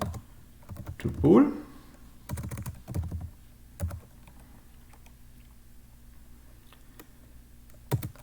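Keys clatter in short bursts while someone types programming code in Lean on a computer keyboard, a few clustered taps spaced out between pauses, with someone speaking briefly between them.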